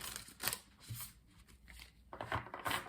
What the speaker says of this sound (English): Let's do one shuffle this way